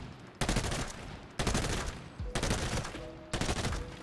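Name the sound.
gunfire from budget AP-ammo gun in Arena Breakout: Infinite video game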